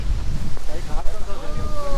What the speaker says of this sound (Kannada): ಗಾಳಿ ಬರ್ತಿದೆ ಗಾಯ್ಸ್